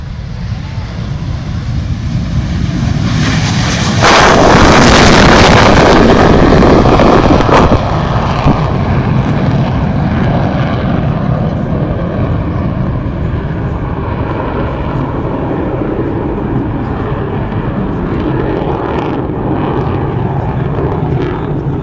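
An F-111 jet flies at the 2008 Amberley air show, its loud roar surging into a powerful blast for a few seconds and then easing to a sustained rumbling drone.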